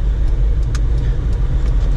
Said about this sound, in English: so right now I'm just driving.